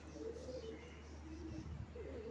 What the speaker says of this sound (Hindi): पर ये बड़ी मजे की कबूतरी है